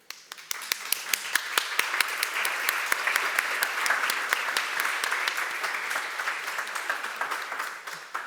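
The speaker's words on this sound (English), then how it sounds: "I think this panel definitely deserves a huge round of applause." A conference audience applauds the panel speakers, with distinct individual claps standing out over a steady wash of clapping that holds at a moderate level and thins slightly toward the end.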